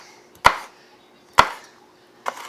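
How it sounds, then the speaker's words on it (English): Knife chopping fresh jalapeno peppers on a cutting board for homemade pico de gallo, three sharp, separate chops spaced about a second apart, close and clear with no talking. "and chopping it up"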